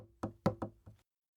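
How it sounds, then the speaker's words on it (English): Soft, cautious tapping on a wooden tree-house door: four light knocks in an uneven rhythm, close and quiet, followed by silence. "It was a soft, cautious tapping on the door of his tree."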